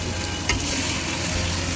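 Marinated desi chicken going into chopped onions already frying in a pan for a village-style curry, a loud, dense, continuous sizzle with one brief sharp scrape or clatter as it drops in, no voices.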